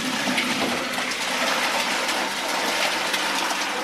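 A short burst of curds and whey pouring and splashing into a colander, steady and fairly close, with a watery gushing texture and no talking.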